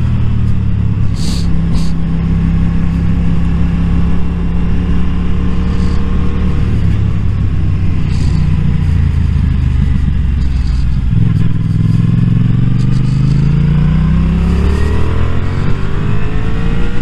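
A motorcycle engine revs loudly and continuously, its pitch climbing and falling through gear changes with a steady rumbling exhaust, out on an open road.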